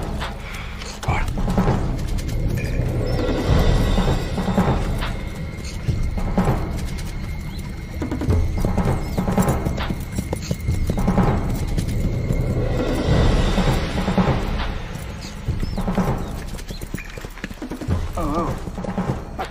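A horse's hooves clip-clop steadily on the ground through most of the scene, a continuous rhythmic clatter with birds faintly in the background and voices speaking over it.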